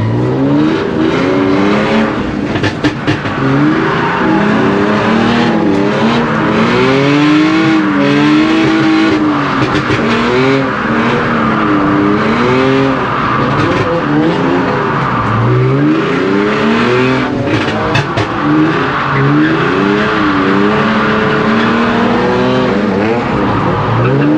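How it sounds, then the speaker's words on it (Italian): A BMW drift car on track at the Montichiari fair centre, revving hard with screeching tire squeals, loud and continuous from an in-car point of view over the whole stretch. "Prima, seconda marcia e adesso si sgomma."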